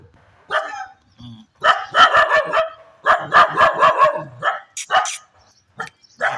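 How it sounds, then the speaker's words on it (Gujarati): Puppies bark and yip in quick, high-pitched bursts, loud and close. The barks come in clusters separated by short pauses. "બતાવું તમને ગલુડિયાના કૂતરા"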